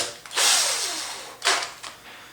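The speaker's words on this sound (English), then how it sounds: "I can drill down through this wood and not worry about harming my workbench" A power drill bores down through a piece of wood on a workbench while a wooden harp is being built, with two loud whirring bursts, the first long and sustained, the second shorter, plus a brief third burst, close by.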